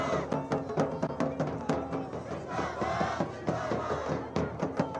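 A dense crowd of BJP supporters and women gathers around Chief Minister Pushkar Singh Dhami's vehicle at a political road show in Gopeshwar, Chamoli. Steady crowd noise and chanting run under a rhythmic, repeated drum beat throughout.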